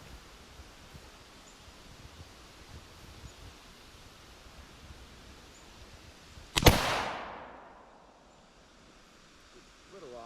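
A single loud, sharp crack from a Savage AXIS 2 rifle chambered in 6.5 Creedmoor cuts through quiet outdoor ambience, followed by a decaying echo rolling away over several seconds.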